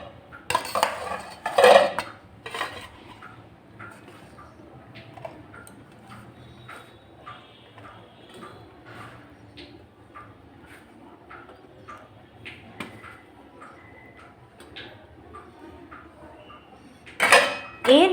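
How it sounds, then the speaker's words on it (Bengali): Fried flat beans are transferred into a tiffin box for steamed bean paturi, with loud clattering of metal utensils and container at the start and end and quiet, scattered ticks and taps in between. "এরপর একটি টিফিন বক্সের মধ্যে আমি ভেজে রাখা সিমগুলো দিয়ে দেব।"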